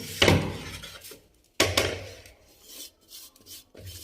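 Ground spices for lemon and chili pickle scraped out of a grinder jar, two sharp rasping bursts followed by fainter intermittent scratches, close and alone without talk.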